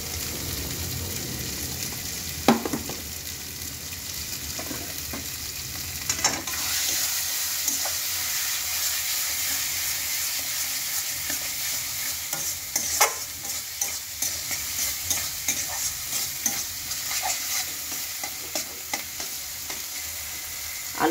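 Potatoes with Kashmiri chili sizzle steadily in a hot pan, and a spoon scrapes and clicks against it every few seconds as they are stirred. The frying is close and continuous, with no voices.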